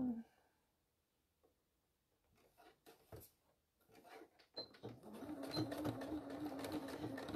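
A sewing machine stitches a faux leather clam shell pouch after the needle is moved toward the fabric edge; a few clicks and handling noises lead into a steady, close mechanical whir with a voice speaking over it.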